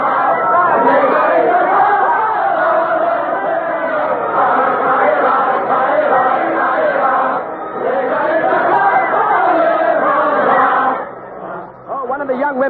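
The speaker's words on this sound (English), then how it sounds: "Ça ira, an old French dance to which revolutionary words have been set. They're singing about hanging all aristocrats from lanterns." A crowd of revolutionaries sings the old French dance tune Ça ira in the lantern-lit streets of Paris, a loud, sustained chorus of many voices with rising and falling phrases, fading briefly near the end.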